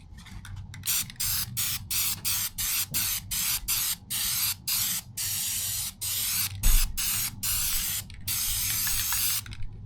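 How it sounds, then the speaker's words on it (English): Repeated short hissing bursts from a can of spray adhesive, about a dozen quick sprays in a steady rhythm, close up with no talking. "let's just spray."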